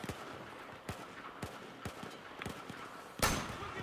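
Battlefield 4 gunfire as a series of single sharp shots at a steady spaced rhythm, moderately distant, ending in a louder, longer blast.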